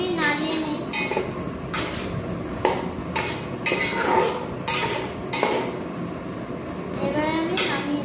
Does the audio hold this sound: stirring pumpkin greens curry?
yes